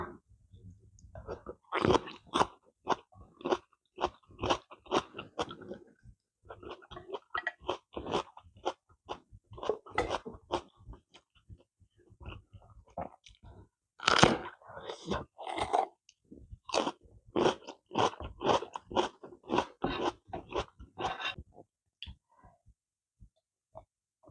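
Close, crunchy chewing and biting of a spicy Thai glass noodle salad with blanched shrimp and naem fermented pork, in steady irregular bursts with short pauses.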